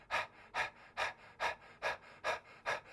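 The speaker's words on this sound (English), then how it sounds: "So breath of fire is like a panting breath," Rapid breath of fire panting during an Agni Sara yoga variation, with the navel pumping: seven sharp, evenly spaced exhalations in quick rhythm, close and fairly loud, with no talking.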